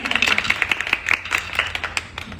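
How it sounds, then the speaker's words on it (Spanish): A small audience claps at the opening of a workplace panel event, a brief scattered round of separate hand claps that are fairly close and sound sparse rather than like a full ovation. "Un aplauso, por favor."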